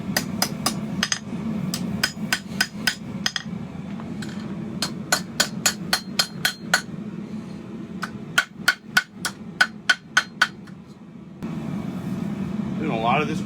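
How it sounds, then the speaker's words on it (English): Sharp metallic hammer strikes on steel chain links, cold-forged, ring out in quick runs and pauses over a steady low mechanical hum, close and loud. "hammer them down."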